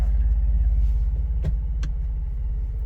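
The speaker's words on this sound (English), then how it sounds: "I'm gonna go ahead and go on a little drive" A Jeep JK with a 3.6L engine and 8-speed transmission on the move: a steady low engine rumble heard from inside the cabin, with a couple of faint clicks or rattles.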